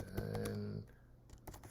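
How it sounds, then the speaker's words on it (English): A few light keystroke clicks on a computer keyboard come through faintly and sparsely, typed slowly in a quiet room. "My typing is a little bit slow."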